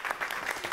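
Audience in a school setting clapping to welcome a sister visiting from Sri Lanka, a short burst of dense, steady applause close by with no voices on top.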